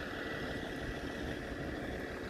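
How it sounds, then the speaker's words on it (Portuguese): A CP UDD diesel multiple unit train idling at Faro with only one of its engines running, a steady, even low rumble and hum throughout, close and unbroken. "Só tem um motor ligado, o outro não está."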